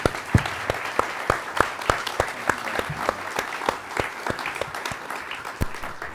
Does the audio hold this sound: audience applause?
yes